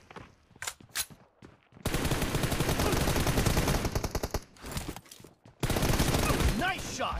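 Rapid automatic M416 rifle fire in the mobile shooter BGMI during a team deathmatch, two long loud sustained bursts with scattered shorter shots and game noise before them.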